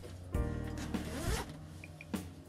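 A zipper on a QuickZip bed sheet being drawn closed, two or three quick rasping zips alone at close range in a quiet room.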